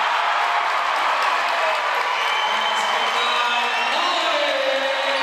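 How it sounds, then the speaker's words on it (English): A crowd at a boys basketball game cheers and whoops after a dunk, a dense, steady roar from the stands that holds for the whole stretch with no letup. "All the Hawaiians over there cheering for Pauly"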